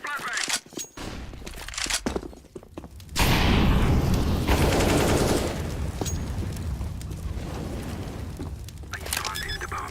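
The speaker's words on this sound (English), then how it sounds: "I am throwing a flashbang" Flashbang grenade in a video game: loud burst and booming rumble after a few seconds, with the noisy wash lingering and fading under gunfire-like game sounds, with a person talking.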